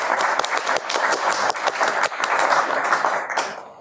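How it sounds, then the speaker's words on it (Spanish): A seated audience at a museum-day talk claps steadily and loudly, the dense applause holding for a few seconds before tapering off at the end, with no talk over it. "Los recibimos con fuertes aplausos"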